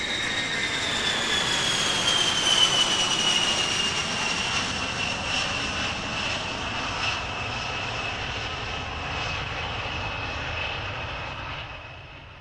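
B-52 bomber jet engines at a British air show, a loud sustained roar with a descending whine as the aircraft passes and slowly fades into the distance.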